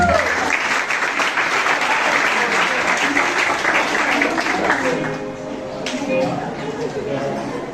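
A big round of applause fills a Reformed Christian church in Villa Redención during a youth presentation service, dense and sustained, with chatter and voices mixed in; it eases slightly near the end as talk carries on.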